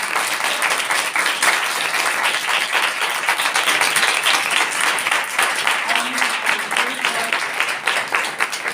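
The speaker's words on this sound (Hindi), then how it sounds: "आओ खुदा पाक उनके लिए जोरदार ताली बजाते हैं।" A large church congregation applauds loudly and steadily, sustained clapping filling the space without a break.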